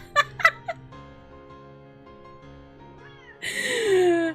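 A house cat meows near the microphone: two or three short squeaks early on, then a long, loud, drawn-out meow at the end over a quiet, steady hum.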